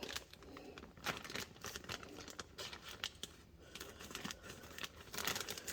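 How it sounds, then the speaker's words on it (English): Faint, close snipping and crinkling of plastic as scissors cut open a bag, a busy run of small crackles and clicks. "I got my scissors so I can open my bag"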